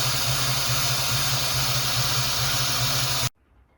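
An engine with Holley Sniper EFI runs rough on one injector after the other has shut off, a loud steady hissing drone with a low uneven pulse, cutting out abruptly near the end.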